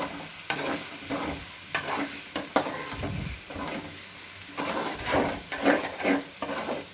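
Ginger-garlic paste with crushed garlic fries in a pan, a constant close sizzle broken by scraping spoon strokes and clinks against the metal, with no one talking.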